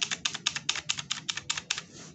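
Quick, even keystrokes on a new laptop's keyboard, about a dozen crisp clicks in a brisk rhythm, close and clear against a quiet background.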